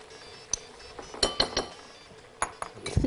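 A large bowl handled while tahini for fish is being made, giving scattered clinks and knocks of dishes and utensils, a few sharp taps clustered in short bursts, fairly quiet and with no talking.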